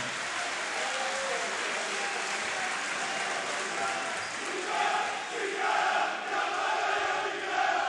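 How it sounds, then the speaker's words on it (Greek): Crowd applauding throughout a Greek basketball league game at the Lavrio arena, a dense steady roar of clapping and cheering that swells a little toward the end. "γιατί χειροκροτούν άπαντες στο γήπεδο του Λαβρίου"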